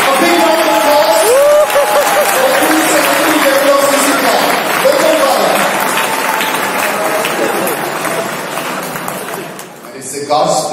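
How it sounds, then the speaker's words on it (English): A crowd at a Jesus Youth national assembly gives a big round of applause to welcome a priest, dense clapping and some cheering sustained loudly throughout before fading near the end. "A big round of applause"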